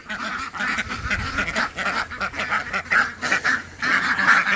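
A flock of ducks and geese crowds into a coop, a continuous overlapping chorus of quacks and honks rising and falling close by, with no talking over it.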